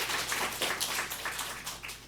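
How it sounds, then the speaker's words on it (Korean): A church congregation at a Sunday worship service claps together, a soft, scattered round of applause lasting a couple of seconds, fairly distant in a large room. "박수 한번 쳐주세요."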